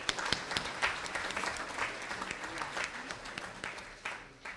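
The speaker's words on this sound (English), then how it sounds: "so we'll give them a round of applause." An audience at a spring sports banquet applauds steadily for several seconds, a dense patter of many hands clapping at once with no voices on top.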